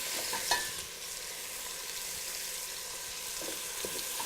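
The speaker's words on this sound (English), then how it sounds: "I'm going to saute that meat." Ground turkey sautéing in three tablespoons of oil in a pan, a steady quiet hiss and sizzle with a few spoon clicks and stirring scrapes, no talking.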